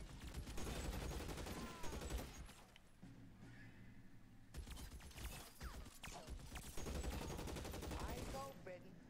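Rapid bursts of gunfire crackle in the L.A. Noire video game, dense volleys that pause briefly mid-clip before resuming, with horse hooves and whinnies mixed in.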